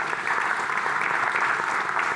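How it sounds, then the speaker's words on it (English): An audience claps steadily for a panel of speakers at a sustainable energy conference, a dense, even wash of applause at moderate distance. "So once again, a big round of applause to our wonderful panelists."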